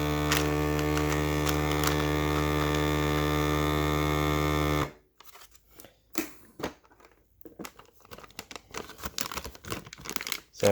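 A QDH vacuum sealer runs with a steady electrical hum on a smooth-walled bag for several seconds, then cuts off, leaving intermittent plastic crinkling and handling noises up close.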